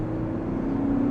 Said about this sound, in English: Get some nice turbo noises there.